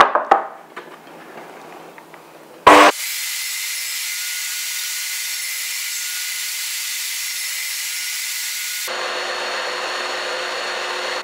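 A saw with its blade set about three teeth above a wooden board starts with a sharp burst, then whines in a loud, steady drone through the cut, its pitch shifting near the end, with no talking.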